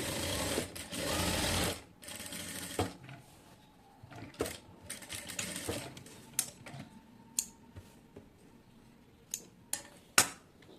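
A sewing machine stitches a selwar pocket, starting with a steady whirring run and then breaking into short, irregular bursts and clicks, close and fairly quiet.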